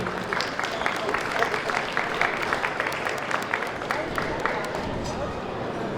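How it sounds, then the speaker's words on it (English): Applause from a festival main-stage audience for the Arizona Kyudo Kai group, a steady wash of many hands clapping at moderate loudness that continues through the whole stretch with crowd noise mixed in. "Another round of applause for Arizona Kyudo Kai."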